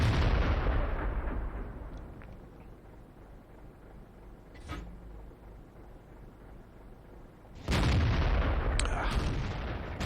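Tank cannon shots in a tank video game: a sharp blast near the start, a brief crack in the middle, and another loud boom near the end, each trailing into a rumbling decay.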